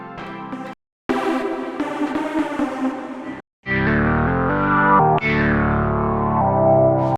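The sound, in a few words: Absynth 6 software synthesizer playing a huge bright lead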